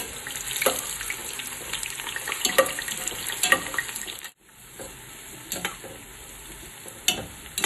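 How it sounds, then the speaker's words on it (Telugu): Thinly sliced onions frying in hot ghee and oil over a medium flame for a chicken biryani, giving a steady crackling sizzle with sharp pops and a brief near-silent gap midway. "నూనె బాగా కాగాక సన్నగా తరిగిన ఆనియన్స్ వేసేసుకొని ఫ్రై చేసేసుకోవాలి"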